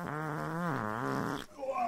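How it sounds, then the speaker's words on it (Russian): A long, buzzing, pitch-bending fart sound, loud and close, runs for over a second before a voice cuts in and talks briefly. "как чел слушает пердёж за деньги"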